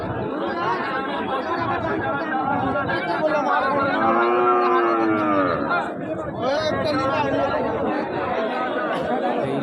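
Heifers and cattle at the Raniganj cattle market. One clear drawn-out moo rises midway through constant crowd chatter and hubbub.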